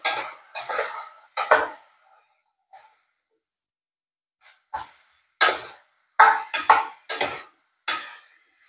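Chicken feet stirred with soy sauce in a pan: short bursts of clattering scrapes and clinks come in irregular clusters with quiet gaps between, close and fairly loud, with no voices.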